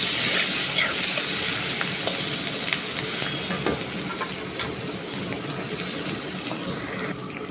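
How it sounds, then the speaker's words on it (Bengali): Sliced onions fry in hot oil for chicken biryani, a steady close sizzle with faint stirring clicks and spits, continuous throughout without speech. "এই তেলের মধ্যে আমি পেঁয়াজ দিয়ে দিয়েছি।"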